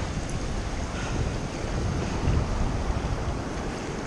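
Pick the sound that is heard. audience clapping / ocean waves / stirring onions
ocean waves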